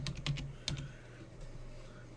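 A short burst of quick typing on a computer keyboard, three or four soft close clicks at the start, then a quiet steady background with no voices.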